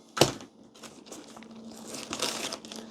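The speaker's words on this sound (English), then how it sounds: "Just a little sandwich size plastic bag just for some quick waterproofing." A small sandwich-size plastic bag is crinkled and handled close up, opening with one sharp rustle and followed by softer, continuous crackling and crumpling as it is folded.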